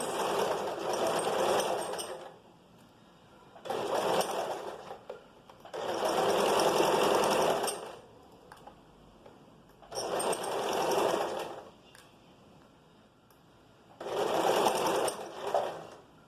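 Sewing machine stitching a vest seam, running in five loud, steady bursts of rapid mechanical whirring separated by pauses of near silence.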